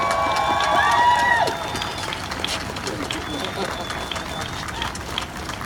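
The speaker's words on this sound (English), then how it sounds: "A big round of applause for our trans sister" Applause and cheering from a crowd at the Halifax Women's March 2018, a burst of clapping that fades as the noise settles, with voices over it.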